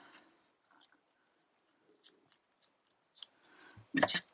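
Scissors snip through orange, blue and red paper during card making, a few faint, soft cuts followed by a louder, closer burst of crisp cutting near the end, with no talking.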